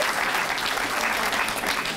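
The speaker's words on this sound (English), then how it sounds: "I think that deserves a round of applause." A crowd applauds steadily at the Vermont Arts Council Governor's Arts Awards 2023 ceremony, dense clapping filling the room at an even volume.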